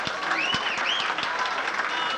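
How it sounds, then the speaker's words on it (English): Wedding guests applaud the bride and groom in a steady, dense wash of clapping, with faint whistling or cheering tones rising above it throughout. "Let's have a nice round of applause for our bride and groom."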